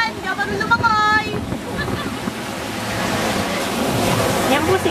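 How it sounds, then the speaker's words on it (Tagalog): Sea waves wash onto a beach during a group outing, a continuous broad surf roar mixed with wind, while people's voices call out over it at the start. "May dagat! May alon!"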